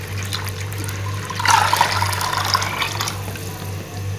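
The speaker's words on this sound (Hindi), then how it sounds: "एक छोटे मीडियम साइज़ का बाउल ये वाला भर के पानी का ऐड करेंगे" Water from a medium-sized bowl is poured into smoothly whisked yogurt for kadhi pakora, making a steady splashing and trickling over a constant low kitchen hum, with no talking.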